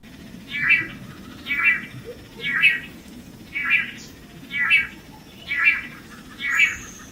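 Male birds calling in unison to attract a female, seven loud, evenly spaced bursts about a second apart, each a rough, mewing call close to the listener.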